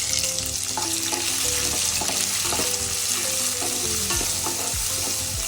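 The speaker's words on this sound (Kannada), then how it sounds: "ಒಂದು 2 ನಿಮಿಷ ಫ್ರೈ ಮಾಡ್ಕೊಬೇಕು." Chopped onion and green chillies fry in oil for a North Karnataka mandakki oggarane, giving a loud, steady sizzle up close with repeated stirring clatter throughout.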